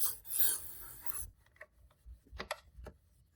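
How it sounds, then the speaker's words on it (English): A screwdriver scrapes and scrubs around a car engine's intake during induction cleaning, making short raspy rubbing strokes, close and fairly faint, in quick uneven bursts with pauses and no talking. "we can pull out our screwdriver, and we can go ahead and just clean around there"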